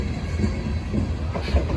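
End of a Norfolk Southern grain train rolling past with a Wabash heritage unit in the consist, a steady broadband rumble of wagons on rails with faint clickety-clack, close and continuous throughout.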